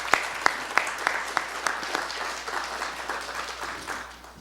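Audience applause at a forum marking 40 years of the Inter-American Court of Human Rights, beginning with a few sharp separate claps that swell into steady clapping across the hall.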